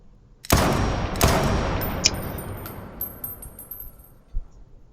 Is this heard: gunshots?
yes